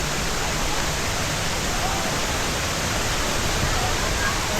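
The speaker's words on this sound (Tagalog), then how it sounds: "Yeah, ito ang batis." Close, constant rushing of a flowing stream in a natural outdoor setting, an even wash of water noise that stays steady throughout.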